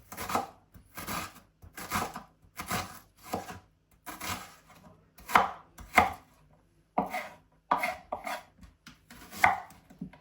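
A knife chops food on a board during home cooking for an iftar meal, with steady bursts of quick, crisp close-up strokes separated by short pauses.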